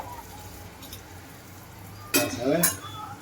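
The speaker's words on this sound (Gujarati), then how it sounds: "હલાઈ નાખો બસ" A spoon stirs a vegetable curry in a pan, starting with a quiet background and then a short burst of scraping and clinking against the metal late on.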